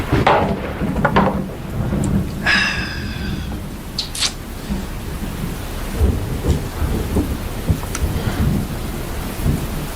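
A downpour grows heavier as thunder rumbles, with a steady wash of rain and a few sharper, nearer cracks and drips standing out over the continuous storm noise.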